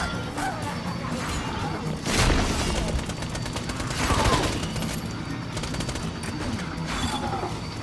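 Fire beam weapon in the Borderlands 2 video game, firing as a dense, loud stream of rapid crackling bursts with two stronger surges. The burst runs continuously with no clear break.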